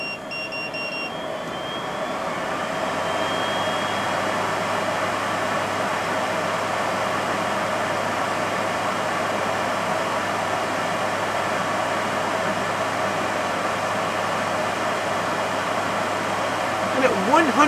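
A Fumeclear FC-100A fume extractor fan runs at full 100% power, giving a steady, even broadband whoosh of airflow that holds at a constant level throughout with no talking.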